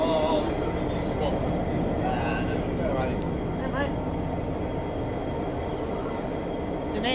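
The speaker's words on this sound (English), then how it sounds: "The name for this locomotive is Graham Cutterwall." A locomotive-hauled train rumbles steadily past at Strathfield station, a continuous heavy roll with faint squeals over it, and a person talks over the passing train.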